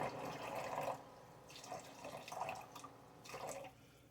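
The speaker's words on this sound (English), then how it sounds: "So let's just add some water back up to our" Water is poured into an Instant Pot holding pork roast juice, faint splashing and trickling in a few short bursts separated by pauses, quiet and close, with no talk.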